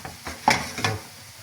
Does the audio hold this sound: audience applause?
no